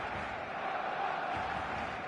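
Stadium crowd atmosphere in the eFootball video game before kickoff, a dense, continuous roar of many voices with faint cheers mixed in, steady and distant-sounding throughout.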